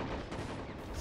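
Gunfire in the World War II strategy game Men of War: Assault Squad 2, a dense, continuous crackle of rapid shots and battle noise filling the full second at steady loudness.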